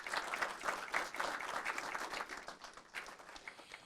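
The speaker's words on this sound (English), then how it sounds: "Let's give her a round of applause." An audience at a city council meeting claps for an employee honoree, a brief quiet round of applause that swells and tapers over a few seconds.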